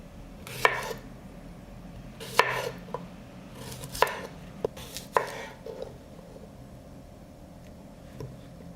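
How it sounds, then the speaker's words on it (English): A knife cuts a cucumber into thick slices on a board for crispy jarred pickles, with about seven sharp, irregular chops, close and clear over a quiet background and no speech. "I cut the cucumber into thicker slices."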